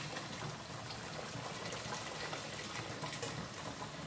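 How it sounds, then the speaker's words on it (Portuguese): Hot water pours steadily into a pot of rice with mint for Portuguese cozido, a continuous, even liquid gush close by for the whole stretch, with no voices. "E acrescentamos o resto da água"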